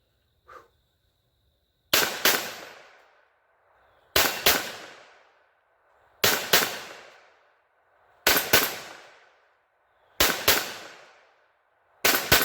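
A Kel-Tec P17 pistol fires CCI Blazer ammunition outdoors in loud, sharp, evenly spaced pairs of shots, roughly every two seconds, with clear silence between each pair.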